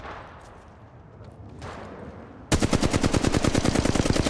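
Automatic gunfire in the mobile shooter game Apex Legends Mobile bursts in suddenly after a quiet stretch of ambience, then continues as a loud, rapid, continuous stream of shots to the end.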